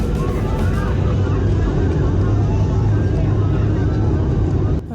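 Boeing 737-800 airliner taking off from runway 24 left at Guam: a steady, loud roar of jet engines fills the cabin, dense and unbroken before dropping off sharply at the very end.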